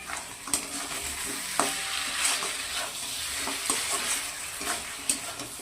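Mutton frying in its own released oil in a pan, a continuous sizzle broken by regular scraping strokes and light knocks of a spatula as it is stirred, close and steady with no talking.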